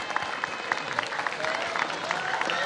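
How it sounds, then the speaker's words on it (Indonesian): Audience applause at an August assembly, a steady crowd clapping that stays fairly even and moderately loud over a few seconds, with no one speaking over it. "kita kasih aplaus untuk David yang berani untuk berbicara"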